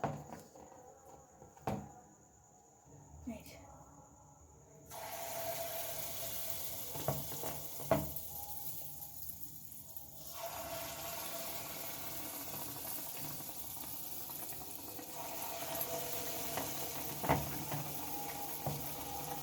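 Mango and rice-flour batter frying in hot oil in a wok, giving a steady crackling sizzle that swells louder midway, with occasional clinks and kitchen knocks.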